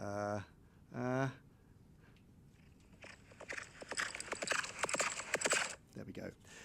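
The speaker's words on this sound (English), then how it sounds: "The horse's hooves grow louder." Horse hooves clip-clop in a staged Four Feather Falls performance, a quick burst of rhythmic clatter rising in loudness after two short tonal calls near the start.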